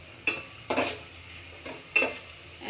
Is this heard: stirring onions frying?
yes